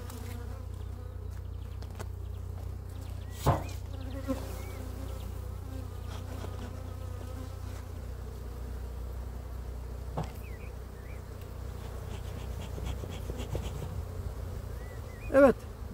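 Dense, steady buzzing of many honeybees at an open hive during colony splitting fills the clip, a continuous low drone with occasional louder individual bees passing close.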